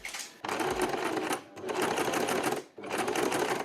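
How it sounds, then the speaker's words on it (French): A sewing machine runs a gathering line through fabric in three fast, loud bursts of stitching separated by brief stops, close and continuous within each run. "je vais repasser du coup sur la couture que j'avais fait pour l'ourlet pour entamer ma deuxième ligne de fronce"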